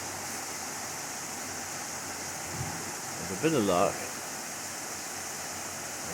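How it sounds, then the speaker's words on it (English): Water rushes steadily into a small canal lock beside a boat, a constant loud wash of noise, while someone speaks briefly partway through. "see the water coming in there"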